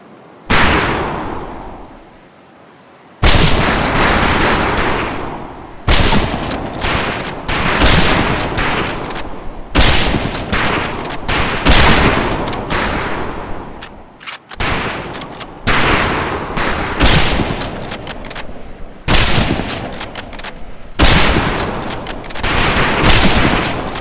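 Rifle volleys crack out in a video-game shooting range, sharp repeated bursts of gunfire separated by brief pauses, loud and close, with several shots overlapping in each volley.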